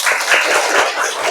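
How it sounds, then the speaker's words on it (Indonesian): A school class of junior high students applauds together in a classroom: a dense, brief burst of many hands clapping, loud and close. "Oke, tepuk tangan dulu."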